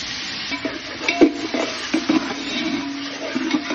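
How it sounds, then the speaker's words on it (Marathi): Fried onion and a generous amount of tomato are stirred in a pan for pav bhaji, with a soft sizzle under repeated spoon scrapes and knocks coming in irregular bursts. "या दोन्हीला आपण चांगले हलवतो।"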